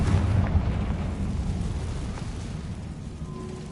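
A fiery Confringo blast spell cast in the video game Hogwarts Legacy, a deep rumbling boom that rolls on and slowly fades over a few seconds, with no voices over it.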